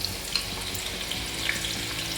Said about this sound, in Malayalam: प्याज फ्राई करने के लिए डाल देंगे